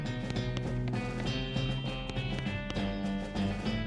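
Horse hooves in West of Loathing, a steady clip-clop rhythm of repeated hoofbeats over a constant tonal music bed, moderately loud and continuous throughout.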